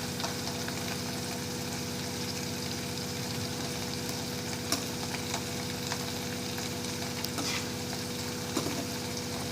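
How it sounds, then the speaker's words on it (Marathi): Potatoes fry and get stirred in a pan while tarri poha is cooked in a Saoji kitchen, giving a steady, close sizzle under a low constant hum, with a few soft scrapes and clicks and no talking. "आणि बटाटे पण घालून घेऊया."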